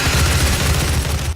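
Dense, loud weapon fire from the Doom video game, heavy rapid shots blending into a continuous booming barrage with deep low-end thumps, cutting off abruptly at the end.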